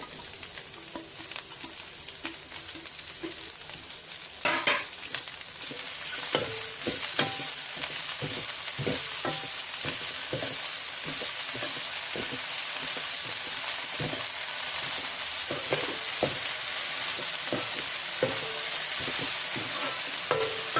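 Small amaranth greens sizzle steadily in a hot pan with sautéed onions while a utensil scrapes and stirs in irregular strokes, with no talking.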